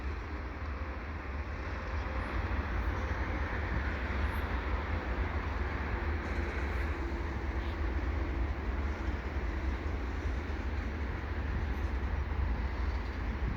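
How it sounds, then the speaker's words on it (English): Steady low rumble of a westbound CN freight train slowing to a stop at Turcot holding tracks nearby, continuous heavy rail noise with faint squeals, no talking. "This is a west train. Westbound train. And it looks like it's gonna stop, doesn't it?"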